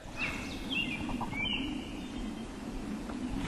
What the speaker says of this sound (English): These birds are screaming at me all day long.